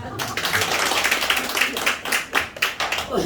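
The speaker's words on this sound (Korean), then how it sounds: "예, 들어가세요. 박수." A church congregation at an evening worship service claps in a burst of quick, overlapping claps that pulse rhythmically for a few seconds, mixed with voices in a reverberant sanctuary.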